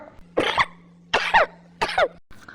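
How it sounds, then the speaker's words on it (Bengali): Three separate, loud throat coughs come close together at an even pace, each one short and harsh, with near silence between them. "গলা দিয়ে কাশি এসে পড়েছে"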